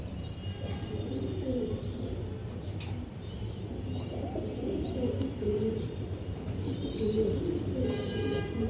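Breeder pigeons coo in soft, repeated rounds close by in a loft, mixed with light chirps from other birds, over steady background noise and with no talking.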